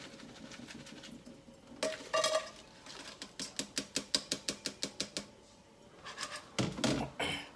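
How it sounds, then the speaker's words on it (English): Raw shrimp are rinsed and dropped into a cooking pot, producing a quick run of about a dozen evenly spaced clinks and rattles, fairly quiet, with splashy clatter before and after and no talking. "I'm just going to rinse these around real good. Then we put them in my pot."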